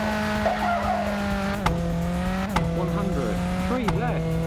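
A rally car in the racing game V-Rally 3 revs with a droning engine whine, broken by quick gear shifts and short bursts of tire skidding as it races.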